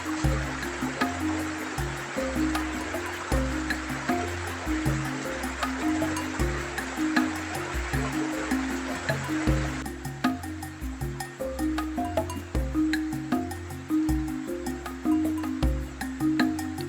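A forest river flows beside a campsite, a steady broadband rush of water, with a rhythmic, musical tone running underneath throughout.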